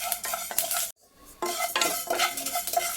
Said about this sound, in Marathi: तीळ हे फास्ट भाजले जातात, त्याच्यामुळं कंटिन्युअस असं त्याला हलवत राहायचं, नाहीतर मग ते जळले जातील.